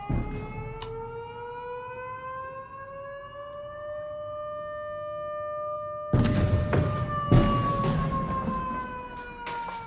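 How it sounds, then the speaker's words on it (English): A long, wailing air raid siren drones steadily across the city of Belgorod, joined midway by louder crackling and rustling close by. "we also once again got to hear the sound of air raid sirens sounding throughout the entirety of the city"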